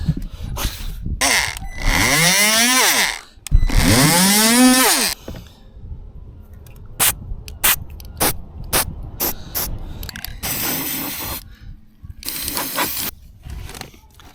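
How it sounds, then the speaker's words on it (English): Several bursts of hissing spray-can primer, each lasting one to two seconds, separated by pauses and scattered clicks and mechanical rattles. "and then spray the primer again."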